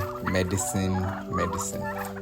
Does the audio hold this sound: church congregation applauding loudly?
no